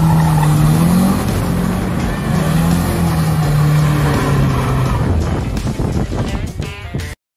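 A car drifts on a public road: engine roars at sustained revs with rising and falling pitch, tires squealing loudly and close, ending in a sudden cutoff.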